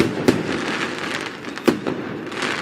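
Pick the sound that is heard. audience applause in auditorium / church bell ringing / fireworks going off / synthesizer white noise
fireworks going off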